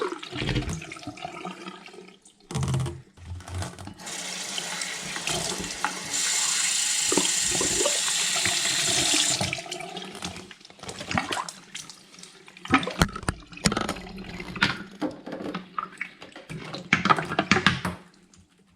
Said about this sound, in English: we can cap both of those ends and we can kind of slosh it around.